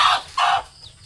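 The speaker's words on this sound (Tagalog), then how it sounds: "May sisiw tayo." A hen clucks near her chicks on a farm, two loud close clucks in quick succession followed by a faint high chick peep.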